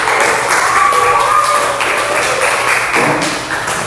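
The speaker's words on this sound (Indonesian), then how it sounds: "tepuk tangan untuk Fahmi tadi" Students in a classroom give a short round of applause for a classmate, a dense burst of clapping that fades out after a few seconds.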